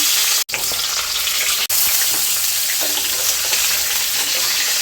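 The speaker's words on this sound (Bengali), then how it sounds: "এবার বেগুনটাকে একটু ভালো করে ভেজে নেব এপাশ ওপাশ করে" Eggplant frying in hot oil tempered with nigella seeds, a loud steady sizzle close up with two brief dropouts and faint stirring scrapes, no talking.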